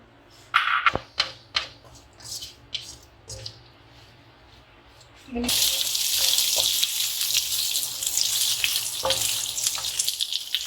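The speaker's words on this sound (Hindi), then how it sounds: "इसमें हम पहले जो है अपने प्याज और शिमला मिर्च को फ्राई कर लेंगे" Onion and bell pepper are added to hot oil for chicken jalfrezi. A few sharp clatters come first, then a loud, steady sizzle that continues to the end.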